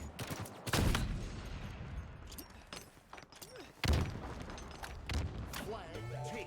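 Sniper rifle fire in a Halo multiplayer esports match, with two loud, sharp shots standing out among other in-game gunfire and effects, while a commentator talks over the action throughout.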